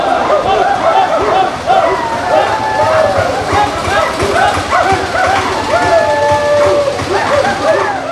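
Youth Congress protesters in a street in Cherpulassery, Palakkad, imitate dog barking during a protest over stray dogs, with loud, overlapping human barks and yelps from a crowd of voices close by.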